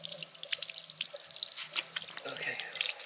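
Water glugs and drips out of an upturned gas can outdoors, in a string of irregular splashy pulses with a thin high whine running over them.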